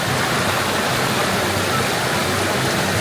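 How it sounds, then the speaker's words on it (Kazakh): River water flows steadily and close by, a continuous broadband rush with no breaks, outdoors in open country; no speech is heard over it. "Суға жеттік ал өзенге."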